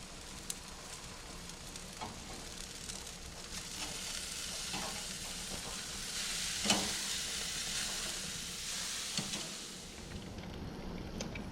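Steaks sizzle on an outdoor grill in Alaska with a continuous crackling hiss, broken now and then by sharper pops and small flare-ups, heard close and fairly soft with no talking.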